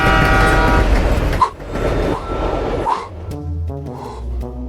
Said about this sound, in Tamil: நம்ம ஸ்டுடியோ வழியா இப்பதான் சப்வே சர்ஃப்ல வர்ற மாதிரி ஒரு ட்ரெயின் போச்சு